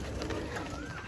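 Soft cooing of a pigeon, low and murmuring, heard faintly against steady background noise.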